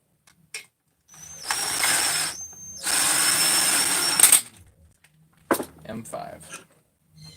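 A power tool drives an M5 flange bolt into a Husqvarna 288XP chainsaw during a rebuild. Two short whirring bursts, then a few brief clicks and taps, with someone talking nearby.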